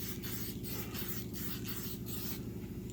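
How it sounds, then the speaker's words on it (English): A steady hiss of finish sprayed from an aerosol can onto a repaired maple surface, pulsing in short bursts over a constant low hum, close and fairly loud. "Spray a little finish on there so we can see what's going on."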